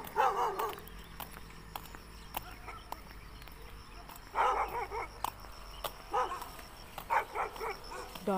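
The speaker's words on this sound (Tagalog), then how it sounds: "daming aso oh nakakatakot" Several dogs bark in bursts near a mango orchard, some yelps sharp and close, others more distant, with quiet gaps in between and no talking.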